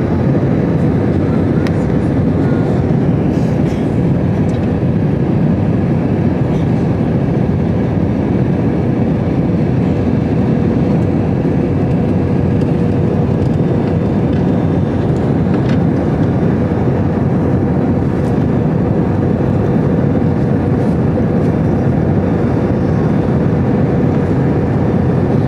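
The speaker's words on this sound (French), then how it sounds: "Voilà, nous sommes en train d'atterrir." Steady, loud cabin roar of an airliner descending to land on a flight from Fez to Lyon, heard from inside with a window open; the broad rushing engine and air noise holds evenly throughout without speech.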